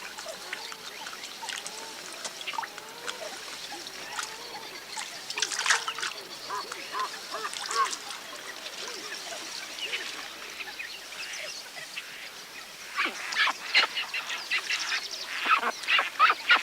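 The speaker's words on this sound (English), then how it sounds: "Some of the ducklings born in the comparative safety of the palace garden" Ducklings in a palace garden give faint, scattered peeps and quacks with occasional splashing, heard at a distance under a soft outdoor background.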